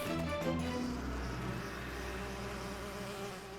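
The Flash Bees from a My Little Pony cartoon give off a close, continuous insect buzz, dense and steady, with a few brief tonal notes at the start.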